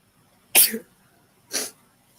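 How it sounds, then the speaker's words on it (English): Two sharp allergy sneezes, close and loud, about a second apart, with quiet in between. "I'm gonna sneeze again."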